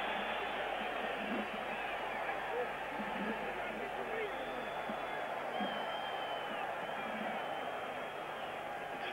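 Football crowd at a 1986 World Cup qualifier between Romania and Northern Ireland, a steady loud roar of disapproval over a refereeing decision, with broad murmuring and shouting that holds from start to end.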